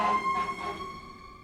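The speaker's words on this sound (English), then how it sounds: "an ambulance is going by" An ambulance siren passes close by, a loud, steady wailing tone that holds through the whole moment and fades slightly toward the end, with no talking over it.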